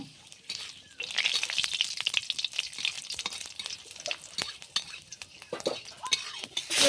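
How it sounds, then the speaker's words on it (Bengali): Dried red chillies and whole spices crackle and sizzle as they hit hot oil for tempering a Bengali yogurt taro-leaf dish, with bursts of sharp popping and a steady fry close by. "এখন তেল গরম হয়ে গেছে, শুকনো লঙ্কা ফোড়ন দিয়ে দিলাম।"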